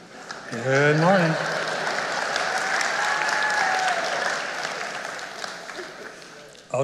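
A church congregation at a Sunday morning service breaks into steady applause that fills the room for several seconds and then fades, with a voice speaking over its start.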